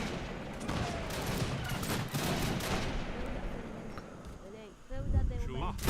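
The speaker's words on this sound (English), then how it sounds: "These native snipers are doing great." Native sniper units in Age of Empires 3 fire a rapid, crackling volley of musket shots under steady battle noise, with someone talking over the gunfire.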